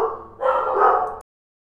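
A dog indoors gives a single close, loud bark-whine that lasts under a second and then stops abruptly.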